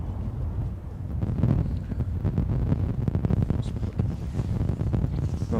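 Storm wind gusting at Gatwick Airport during Storm Bert, a steady loud roar buffeting the microphone with rumbling low noise, no talking.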